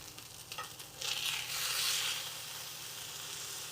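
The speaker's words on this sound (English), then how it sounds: "We're already getting a really nice sear on this side." A Denver steak searing in a hot pan, giving a steady, fairly quiet sizzle that swells after about a second and then holds even, close up with no talking.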